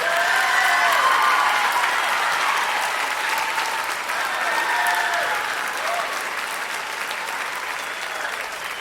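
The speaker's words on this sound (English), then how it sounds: "can we please give them another round of applause for our band?" An audience gives sustained applause for a middle school band at a concert, a dense, steady clapping from a large crowd that fades slightly toward the end.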